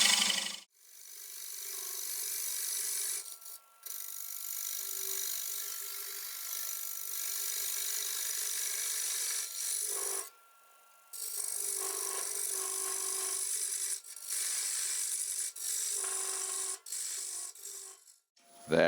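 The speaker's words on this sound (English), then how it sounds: "Now I'm just going to stop the lathe." A wood lathe turns a wooden ring for traditional German ring woodturning, a sustained scraping hiss of the tool on spinning wood broken by several brief pauses, fairly quiet and without speech.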